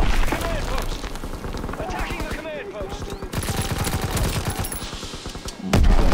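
In the shooter video game Call of Duty: WWII, rapid gunfire rattles under a person talking, and a heavy grenade blast thumps in loudly near the end.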